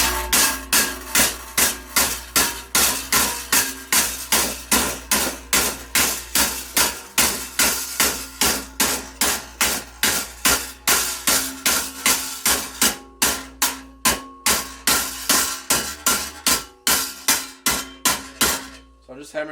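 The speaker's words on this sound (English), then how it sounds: "So I'm just hammering it across left and right." Rapid, evenly spaced metallic hammer strikes on a Ford Falcon bracket ring out one after another, dozens of sharp clanks with a brief pause near the end.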